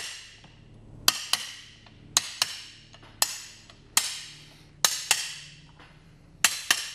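Hammer blows on an aluminum drift knock blades out of a steel power turbine wheel, about ten sharp metallic strikes in irregular pairs and singles, close and clear with no talking.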